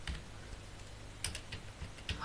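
Quick, light keystrokes patter on a computer keyboard, soft and close, in an uneven typing rhythm.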